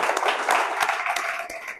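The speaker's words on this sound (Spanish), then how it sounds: "Así que un aplauso," Brief burst of audience applause for a guest at the close of an interview on digital transformation in insurance, a dense wash of clapping at steady loudness with no talk over it.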